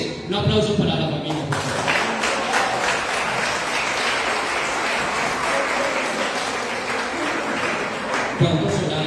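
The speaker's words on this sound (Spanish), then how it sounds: "Un aplauso para la familia." A church congregation applauds a family standing before them, sustained loud clapping from a large crowd that starts after a brief moment of speech and continues to the end.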